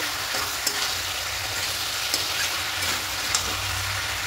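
Chopped Malabar spinach greens with chickpeas sizzle steadily in a pan while a spoon stirs them, with a few light scraping knocks over the constant close frying hiss.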